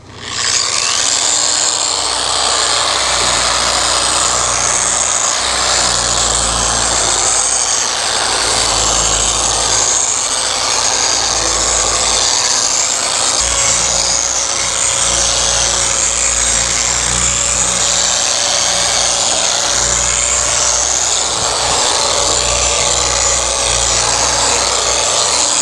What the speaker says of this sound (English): Let's go ahead and remove the wax and buff this out to a nice shine.